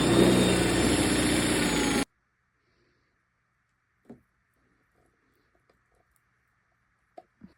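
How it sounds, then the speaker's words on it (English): A cheap electric hand mixer whipping a stiff body butter buzzes loudly for about two seconds, then switches off, leaving near silence broken by a few faint clicks and knocks. "Got a regular cheap old hand mixer."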